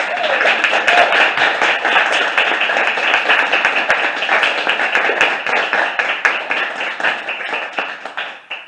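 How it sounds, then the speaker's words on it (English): An audience at a literary reading gives a full round of applause, dense clapping that stays loud and steady for several seconds before tapering off at the end, with no talking over it. "let's give one more round of applause for Eric"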